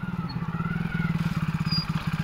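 A motorcycle engine chugs past on a muddy, waterlogged road leading to a school, its rapid, even low thumping steady and fairly close throughout.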